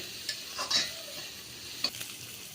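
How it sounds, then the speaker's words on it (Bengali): Shrimp fry with onion and green chili while chili powder and turmeric are stirred in, so a soft sizzle runs under a few distinct scraping stirs of the spoon against the pan. "এখন আমি আবার নেড়ে ছেড়ে দিচ্ছি আর ভালোভাবে হলুদ আর মরিচ মিশিয়ে নিচ্ছি"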